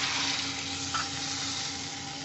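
Water poured into a hot pan while cooking a thin fish curry sizzles steadily, a loud, even hiss that carries on without a break for the whole moment, with no voices.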